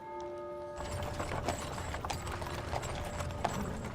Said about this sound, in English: a horse-drawn wagon pulls up outside the offices of J.P. Morgan Bank at 23 Wall Street